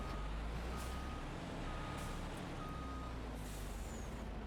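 Mercedes Arocs hook-lift truck in Farming Simulator 25, idling with a steady engine rumble while faint repeating reversing beeps sound over it, plus a short air-brake hiss.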